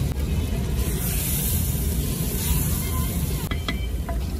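Chicken frying in a clay pot for a village-style white korma, a steady broad sizzle and hiss throughout, with a few sharp clinks of a spoon near the end.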